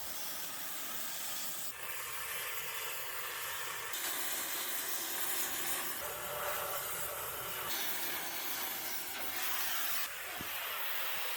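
Cutting torch washing off studs on an old steam locomotive boiler being cut up for parts, giving a steady, loud roaring hiss with abrupt shifts in tone and a few sharp knocks, with no talking.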